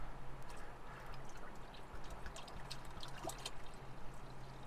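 Water poured into a cooker up to its fill line, a steady soft trickle and splash held at close range for the whole stretch, with a faint low hum underneath and no talking.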